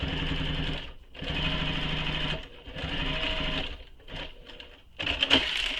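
A sewing machine runs in several steady bursts of rapid stitching as it top-stitches fabric on a tutorial pattern, pausing briefly between runs, close and clear with no voices.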